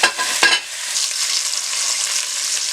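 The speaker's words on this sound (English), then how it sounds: "hot pan. Gotta be hot. Gotta hear it sear." Food searing in a very hot pan for tomato sauce, a steady bright sizzle and crackle throughout, with a brief louder stir or clatter near the start.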